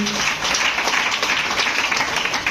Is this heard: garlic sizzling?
no